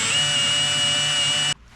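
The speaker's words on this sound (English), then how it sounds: "I guess I might as well drill these 2 while I'm at it." A power drill bores holes through the transom of a 1980s Donzi boat under rebuild, a loud, steady high-pitched whine that runs continuously for about a second and a half and then cuts off abruptly.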